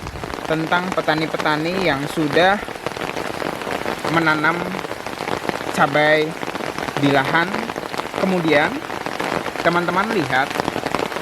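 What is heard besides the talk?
heavy rain falling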